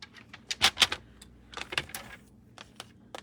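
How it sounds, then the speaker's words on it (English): Scissors snipping through paper for a craft project, a run of short crisp cuts in uneven bursts, close and clear in a quiet room. "And I'm going to cut this again."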